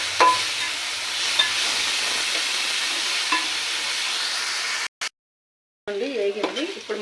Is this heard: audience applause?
no